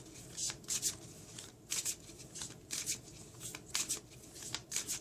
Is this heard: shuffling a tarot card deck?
yes